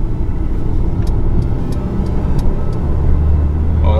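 Engine of a Mercedes-AMG A35 sedan switched into sport mode: a loud, steady low rumble heard from inside the car, rising slightly toward the end with a faint whine.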